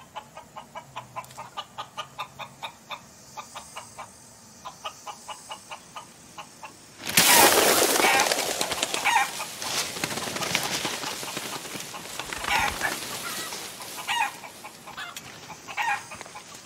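A chicken clucks in a steady run of short, evenly spaced clucks, then a loud rooster crow breaks in and rings out over the remaining clucking and farmyard noise, close and clear, with no speech.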